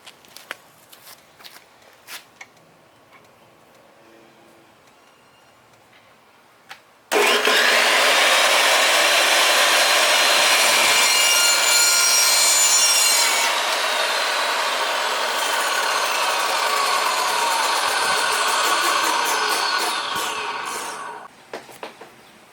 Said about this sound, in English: So cut your PVC to 9 3/8 inch in length,